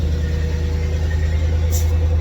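A 1987 Chevy 1500 pickup engine idles steadily after its first start in almost two years, a low, even rumble close by with a constant hum, briefly overlaid by a faint high squeal.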